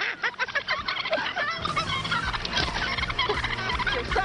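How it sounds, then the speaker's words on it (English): Texas turkeys gobble in a steady, rapid, overlapping chorus, with several birds close by calling almost continuously over background noise. "These are Texas turkeys."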